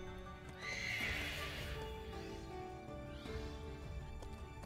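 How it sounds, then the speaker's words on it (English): A horse in Pokemon Shield gives a loud, high whinny that trails off, then snorts and calls more softly as hooves clop lightly beneath, with no talk over it. "It's a horsey boy."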